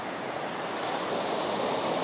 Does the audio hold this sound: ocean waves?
yes